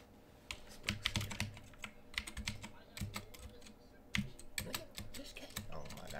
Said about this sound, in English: Oh my god, this keyboard ass, bro. I done fucking ruined it.